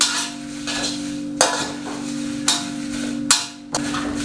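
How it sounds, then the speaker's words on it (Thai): Dried chilies are stir-roasted in a wok after the oil is poured off. A spatula scrapes steadily against the pan, with sharp metallic clangs at irregular intervals, over a constant low hum. "เดี๋ยวผมจะเทน้ำมันออกแล้วก็จะนำพริกมาคั่วต่อนะครับ"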